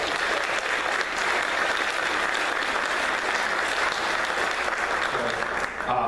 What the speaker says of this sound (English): Let's give those 2 guys a round of applause.